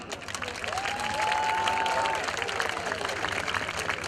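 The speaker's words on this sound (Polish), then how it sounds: "tym razem Michał Maksimowicz, wielkie brawa!" Stadium crowd applauding at an American football game, sustained clapping and a whistle rising then easing over a few seconds, heard at a distance with commentary-like voice underneath.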